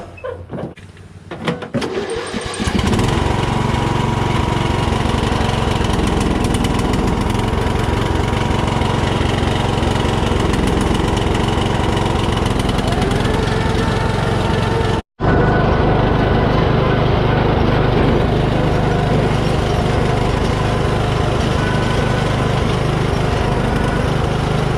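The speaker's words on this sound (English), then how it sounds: "Well, looks like it's a success. We do have a running tractor." A lawnmower tractor with a freshly charged battery and a new belt cranks briefly, then its engine catches and runs loud and steady. A momentary dropout interrupts the running engine partway through.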